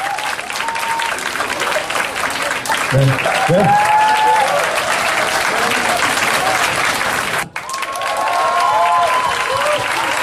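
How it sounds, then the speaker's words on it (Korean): Loud, sustained applause from a crowd at a dance festival awards ceremony, filling the whole stretch with a brief dip near the end, while a host speaks over it. "큰 박수 한번 부탁드릴게요"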